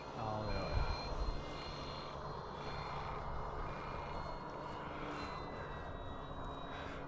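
An E-flite RV-7 model airplane flies at Arnarvöllur, its battery-powered motor a steady, faint droning whine that holds throughout, with voices talking over it.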